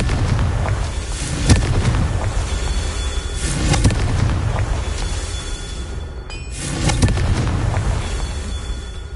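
Confringo explosive spell in the Hogwarts Legacy video game, a series of loud booming blasts with crackling bursts recurring every couple of seconds, layered with ringing magical tones and dense rumbling background.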